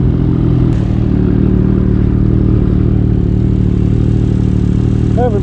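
Snowmobile engines warming up in frozen conditions, a steady loud idle with a low droning rumble and clattery mechanical tone running continuously throughout, close by, with no talking.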